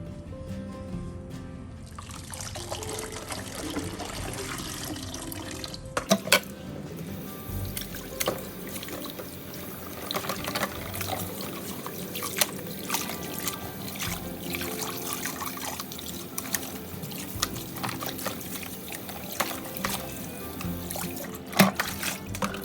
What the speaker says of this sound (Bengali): এখন জাস্ট এটা ঢেলে দিচ্ছি।